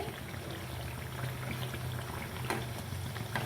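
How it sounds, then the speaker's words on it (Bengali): Snack frying in oil over a medium gas flame, a steady close bubbling sizzle that holds even throughout with a few sharper crackles and no voices. "গ্যাসের আঁচটা একদম মিডিয়ামে করে ভাজবে তাহলে পুরো ক্রিপসি হবে"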